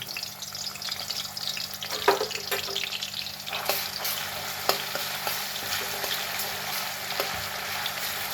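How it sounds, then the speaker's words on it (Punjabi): Garlic-cumin paste and asafoetida fry in oil in a kadai, a steady close sizzle with occasional stirring scrapes and light clinks, no voices. "ਦੋ ਵੱਡੇ ਚਮਚ ਆਪਾਂ ਤੇਲ ਦੇ ਪਾਏ ਆ ਹੁਣ ਆਪਾਂ ਇਹਦੇ ਵਿੱਚ ਆ ਪੇਸਟ ਪਾ ਦਾਂਗੇ ਲਸਣ ਵਾਲਾ ਤੇ ਜੀਰੇ ਵਾਲਾ"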